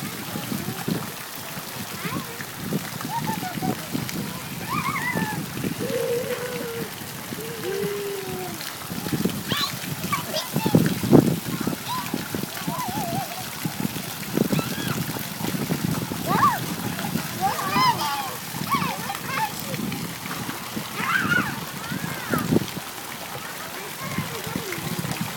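Water splashing and trickling continuously, with children's voices and adult speech over it throughout.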